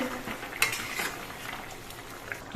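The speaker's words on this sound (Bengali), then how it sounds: "আর মাছটা একবার নেড়ে চেড়ে দিচ্ছি" Hilsa fish curry stirred in a pot, the spoon giving faint scraping, clinking metal sounds over a low background hiss, with a couple of sharper knocks early and no talking.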